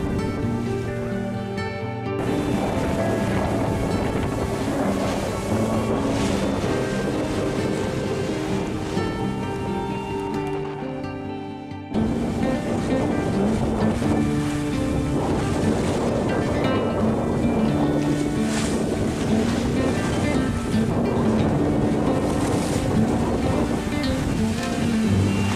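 Out on open ocean, a sailboat rolls through waves 1.5 to 2 meters high, with a steady loud rush of water and wind buffeting the microphone that continues throughout, interrupted by one brief dip partway through.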